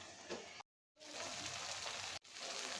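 Ground peanut paste sautéing in a pan with added broth makes a soft, close bubbling sizzle that stops briefly twice, with no talking.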